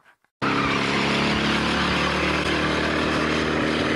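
A 1967 Shelby GT-500 Mustang with a 428 cubic inch big block V8 and dual four-barrel carburetors bursts into a loud, sustained roar after a brief quiet moment, rumbling close and heavy throughout.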